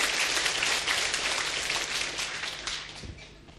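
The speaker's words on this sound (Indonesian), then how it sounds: "Mari kita beri tepuk tangan untuk Tuhan." Congregation in a church applauding, a dense, rain-like patter of many hands that starts fairly loud and gradually fades away over a few seconds.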